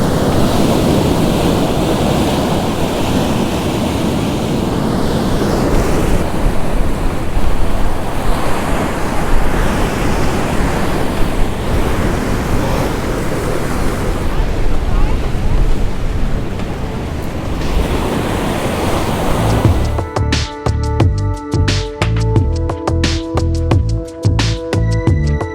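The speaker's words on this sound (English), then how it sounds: "just as some bigger waves are breaking out on the rocks" Bigger ocean waves break loudly against coastal rocks in a continuous roaring wash of surf, with wind buffeting the microphone throughout and a rougher, choppy stretch near the end.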